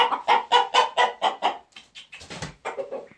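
A rooster gives a rapid run of loud, agitated clucks close by, then a few more broken, squawking calls.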